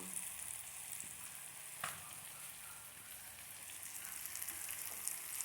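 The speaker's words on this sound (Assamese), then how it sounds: "এইটো ভাজি আছোঁ।" Vegetables frying in a pan on a home stove give a steady, even sizzle that fills the whole stretch with no break, close and moderately loud.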